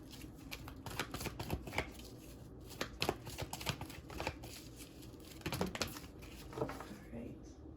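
Black Moon Astrology tarot cards being shuffled by hand, a run of quick papery riffles and soft slaps in uneven bursts, fairly close and moderately quiet, with a voice murmuring faintly in the background.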